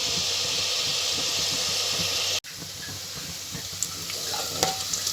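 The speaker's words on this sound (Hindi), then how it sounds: "प्याज हमारे ब्राउन होना स्टार्ट हो चुके हैं।" Onions fry and brown in a pan, a continuous loud sizzle and hiss with occasional stirring scrapes, briefly cut off midway before resuming slightly quieter.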